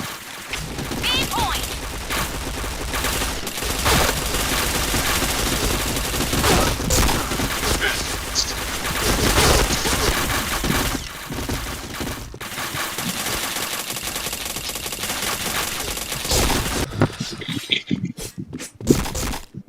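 Rapid bursts of gunfire crackle almost nonstop through a multiplayer shooter match, dense and loud, with a voice speaking over the action before it thins out near the end.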